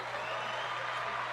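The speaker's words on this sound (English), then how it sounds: "Give her an extra applause there." Brief, faint applause from a small studio audience during a livestream talk show welcome, a soft continuous patter of clapping.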